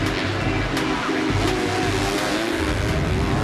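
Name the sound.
motocross bikes racing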